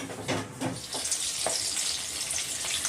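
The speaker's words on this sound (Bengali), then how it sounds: "তো এখানে মা কড়াই তেলের ওপর পেঁয়াজ ছেড়ে দিল, পেঁয়াজ আর কাঁচা লঙ্কা।" Onions and green chilies fry in hot oil in a wok, giving a steady, close sizzle with a few brief stir-like bursts near the start.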